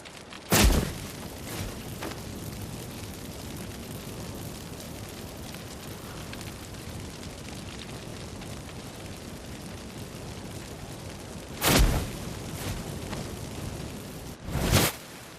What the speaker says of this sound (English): let's burn this shack down